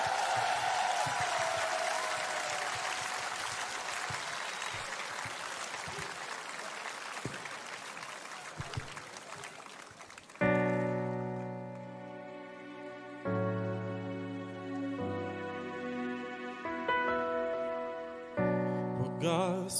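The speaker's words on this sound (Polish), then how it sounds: "brawa!" Concert crowd applause for a performer on stage at the Opole festival, a broad wash of clapping that fades out as a sustained synth-pad intro begins.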